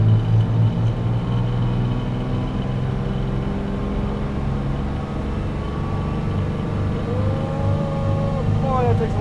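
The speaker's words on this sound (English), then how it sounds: "Okay, I can hear the turbo. It is a little noisier." Diesel engine running hard on a dyno with an HX35 60mm or BorgWarner K27 turbo: a loud, steady droning roar throughout, with a rising whine climbing in pitch near the end as the turbo spools up.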